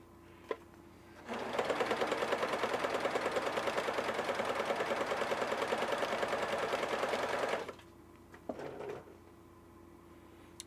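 A Pfaff sewing machine stitching, a fast even mechanical whir of needle strokes running steadily for about six seconds, close and loud, followed by a few clicks and knocks as it stops.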